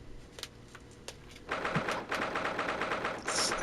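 Loud banging on a door in The Great Ace Attorney Chronicles video game: a few sparse knocks at first, then a dense, rapid, gunfire-like pounding that continues to the end.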